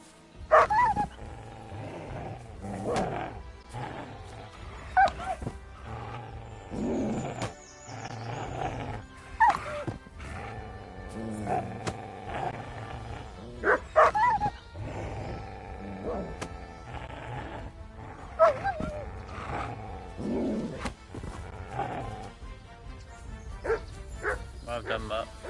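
Mutt the dog barking in Kingdom Come Deliverance 2, repeated bursts of barks and yips over ambient game sound, with voices talking between them.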